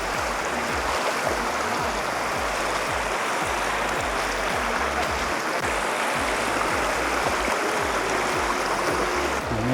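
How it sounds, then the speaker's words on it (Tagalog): Steady rushing water of a flowing stream, broad and continuous throughout, fairly close with no pauses. "Na naglalakad kami sa Batis."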